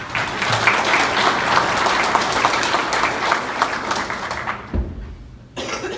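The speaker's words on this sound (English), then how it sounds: "let's give them a round of applause" Audience applause at a county Farm Bureau annual meeting, steady dense clapping with a cough near the end before the crowd quiets and settles.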